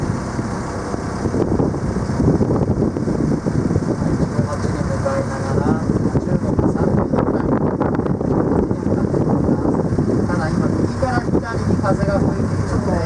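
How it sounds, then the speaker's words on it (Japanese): Wind buffets the microphone on a small boat during a docking approach in Japanese boat-licence training, a constant rough roar with a low engine rumble beneath. "風が吹いているの"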